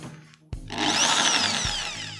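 A RedVerg RD-ID850 impact drill runs in non-impact mode. After a click it spins up into a loud, steady whine that rises, then slightly falls, heard up close with no speech.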